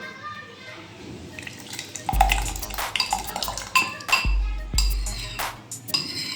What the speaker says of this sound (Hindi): अब इसके अंदर हम दही डालेंगे।